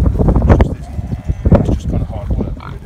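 Sheep on a Pembrokeshire farm crowd in to eat from people's hands, giving close bleats mixed with feeding noises while a person talks over them.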